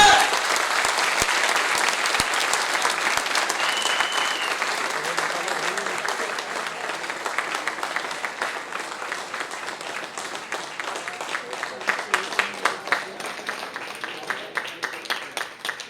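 An audience at an agricultural seminar applauds loudly, a thick roll of clapping that gradually thins into fewer, sharper individual claps toward the end, with some crowd voices mixed in.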